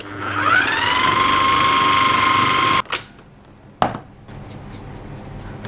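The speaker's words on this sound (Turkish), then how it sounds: "Şimdi tekrar rondoyu çalıştırıyorum." A food processor grinds peanuts into homemade peanut butter, its motor whirring up loud and steady for about three seconds before cutting off, followed by two sharp clattering knocks.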